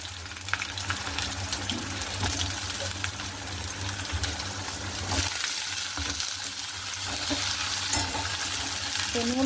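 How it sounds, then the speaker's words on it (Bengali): Potatoes tossed into hot oil in a kadai (wok) fry with a steady, close sizzle, broken by stirring scrapes and a few soft knocks for the whole stretch, with no voices. "তো তেলে গিয়ে আলুগুলো দিয়ে দিলাম ভাজার জন্য।"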